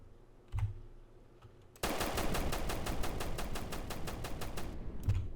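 Gunfire from a drive-by in the video game SAMP: a couple of isolated shots, then a loud, rapid automatic burst lasting about three seconds, and another single shot at the end.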